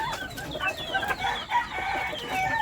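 Sweater Claret gamefowl chickens cluck and chatter together in a close, busy flurry of overlapping calls, with no pause across the short stretch.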